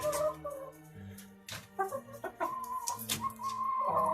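Several free-range chickens of mixed breeds cluck and murmur continuously nearby at an organic village farmhouse, overlapping calls rising and falling at a moderate volume, with no talking.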